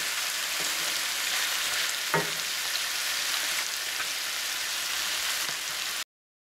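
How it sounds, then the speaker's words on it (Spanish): Chicken pieces frying in a pan for chicken escabeche, a steady loud sizzle with crackling pops and one sharper knock partway through, no talking. "Ahora aquí a cocinar un poco el pollo."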